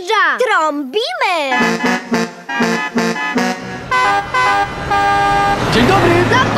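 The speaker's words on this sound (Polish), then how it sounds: "Ktoś nadjeżdża! Trąbimy!" Cartoon vehicle horn toots repeatedly in a bouncy rhythm from a children's animated train-station show, loud and close, with a cheerful character voice at the start and a musical, whooshing flourish at the end.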